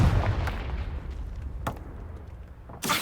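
Confringo fire spell blasts in Hogwarts Legacy, heard as a few short, sharp bursts spread over a few seconds, the first booming, a later crack fainter, and a bright loud burst near the end, with no voices.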